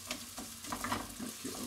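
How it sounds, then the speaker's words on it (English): Onions and chili sizzling in a pan over medium heat, a brief, faint crackle with a few soft stirring scrapes, close and quiet. "Add in my onions and my chili. Give it a bit of a stir."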